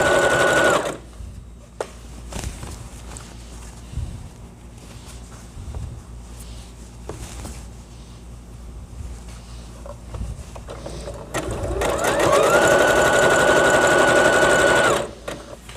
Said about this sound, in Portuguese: e vou passar o meu zigue-zague